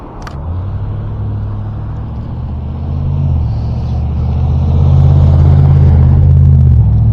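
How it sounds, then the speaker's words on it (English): A truck passes near a road during an e-bike ride, its loud low rumble swelling steadily and peaking toward the end. "Oh, I got a truck over there though."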